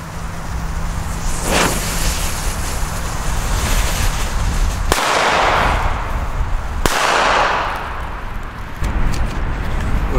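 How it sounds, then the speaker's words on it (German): Dum Bum Black Edition Klasek black powder firecrackers, F2 class with a pre-burn fuse, going off outdoors: several loud sharp bangs with rumbling tails over constant wind-like noise. "Also für Schwarzpulverböller muss ich sagen, sind das die besten in F2."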